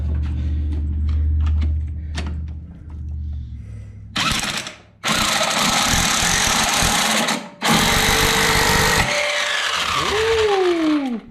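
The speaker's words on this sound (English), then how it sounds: "I think we're ready to get the flywheel puller on there" Flywheel puller working on a Kawasaki 550 jet ski engine, giving loud bursts of ratcheting and grinding mechanical noise in long runs broken by short gaps, ending with a rising whine.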